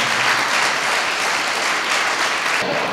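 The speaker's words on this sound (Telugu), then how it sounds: "చప్పట్లు కొడదాం ప్రభువారికి" A church congregation applauds loudly and continuously for a few seconds, a dense, even wash of clapping hands with no voices standing out.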